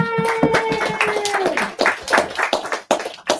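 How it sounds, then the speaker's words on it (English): Audience at an art auction clapping for an artist, a scattered cluster of hand claps of moderate loudness, with a voice speaking over the start before the clapping thins out. "So big round of applause for Trevor."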